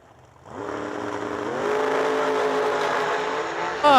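A 1969 Camaro launches in a Top Sportsman drag race qualifying run, its engine roaring loud and steady with a rising pitch through the gears, and a sharp surge of noise near the end.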